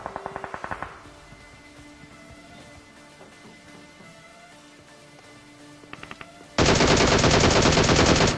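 Gunfire in the battle royale game PUBG: a short burst of rapid automatic shots, a long quieter stretch with faint shots, then a loud sustained volley of rapid fire to the end.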